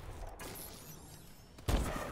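Rapid video game gunshots crackle faintly in a quick volley, followed by a louder burst near the end.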